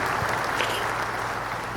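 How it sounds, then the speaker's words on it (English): A crowd gives a round of applause at a live interview show, dense continuous clapping that holds steady and close for the whole stretch with no voices over it. "give us a round of applause for Medic"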